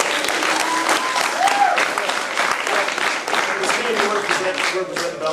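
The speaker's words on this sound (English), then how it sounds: "So let's give him a round cheer." Audience at a family martial arts center belt ceremony applauding and cheering, a dense, sustained wash of clapping with a few shouted cheers and voices mixed in, loud and continuous throughout.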